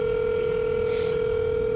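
A steady, unbroken telephone dial tone on a call being placed to a government ministry office, loud and close, holding one constant pitch for the whole stretch with no voices.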